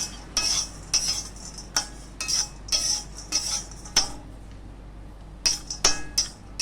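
A metal spoon scrapes and clinks against a pan as coconut dry-roasts over low heat, with a steady series of short ringing strokes, a brief pause, then a few more, close and clear with no talking.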